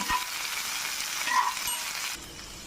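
Karonda berries (kalakkai) fry in a pan with a steady, soft sizzle, hissing evenly throughout and easing off briefly toward the end, with no talking over it.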